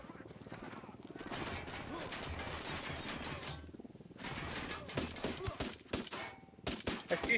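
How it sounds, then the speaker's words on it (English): Bursts of rapid gunfire in a video game, loud and choppy, coming in dense volleys with short gaps and a few sharp single shots near the end. "That's you shooting at me, man"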